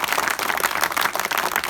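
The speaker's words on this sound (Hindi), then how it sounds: "आप सभी लोगों के लिए एक बार अपने आप के लिए ताली बजाइए।" A crowd of NCC naval unit cadets applauds at a sailing expedition ceremony, producing a loud, dense and continuous wash of clapping with no gaps and no voices.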